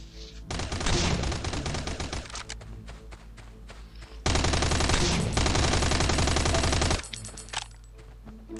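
Dense bursts of automatic gunfire in the Last Island of Survival video game, two long sustained volleys of rapid shots with a short gap between them, loud and close.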